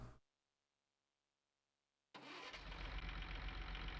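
A tractor engine in Farming Simulator 19 cranks and catches after a brief silence, then settles into a loud, steady running roar that fills the rest of the moment.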